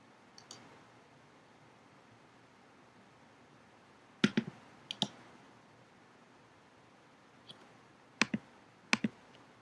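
A computer mouse clicks a button on screen: a few sharp, close clicks, some in quick pairs, scattered through an otherwise quiet stretch.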